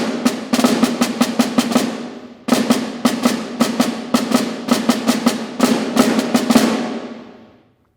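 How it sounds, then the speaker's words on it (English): A snare drum plays a sequence of accented and non-accented ruffs and flams, sharp crisp strokes in rhythmic clusters with brief gaps, loud and close, the last notes ringing out and fading. "where I have some not accented and I have some accented ruffs and flams."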